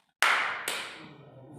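Two sharp hand claps from a classroom clapping routine, a strong first clap then a second about half a second later, loud and close with a short ring-off and no talking.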